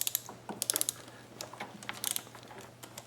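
A ratchet wrench clicking as it loosens valve cover bolts on a Powerhorse 2000 generator engine, quick bursts of close, crisp pawl clicks over a low steady hum.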